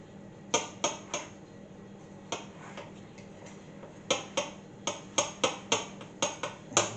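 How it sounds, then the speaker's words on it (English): A knife back cuts pastry down against the edge of a tart tin for a roasted vegetable tart, giving a series of sharp, close metallic taps and clicks in quick irregular bursts over quiet room tone. "using the back of a knife, trim your pastry. So you can just cut down against the edge of the tin"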